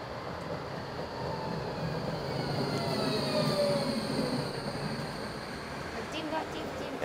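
A train in Zurich, heard as steady rolling rumble with faint wheel squeal, continuous at moderate level, with some people talking over it.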